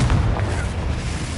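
The Confringo explosive spell in Hogwarts Legacy on PS5: a heavy, booming blast rolls out through the short moment, loud and close, with no talk over it.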